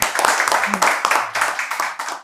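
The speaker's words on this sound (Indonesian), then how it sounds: "Tepuk tangan lo buat Bang Jule dong." Applause and hand clapping welcome a guest at a men's grooming studio, a short burst of close, dense clapping from a small group, with talk mixed in.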